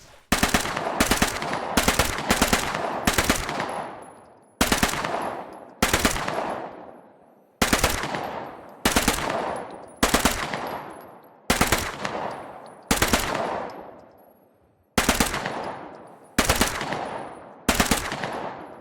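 An MP40 submachine gun in the WWII shooter Post Scriptum firing loud, sharp bursts at a range target. The short strings of rapid shots are separated by brief pauses, and each burst trails off into a ringing echo.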